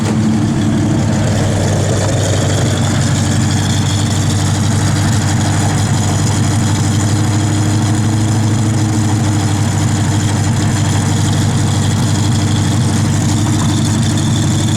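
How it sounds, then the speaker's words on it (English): A 1969 Ford Mustang Mach 1 V8 idling steadily outdoors in freezing cold weather, a loud, continuous low rumble close by that holds fairly even throughout, with no clear rev bursts standing out. "A little rev."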